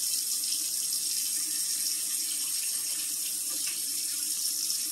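Kitchen tap water pours steadily over a raw beef eye round roast being rinsed, a continuous hissing splash close to the microphone with no speech.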